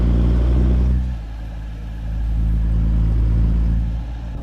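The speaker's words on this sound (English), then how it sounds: "The Mustangs and Chargers have a distinct sound." Low, rumbling Mustang and Charger muscle car engines in a video game pass close by, one loud surge fading then another building, a steady throaty drone with no talking.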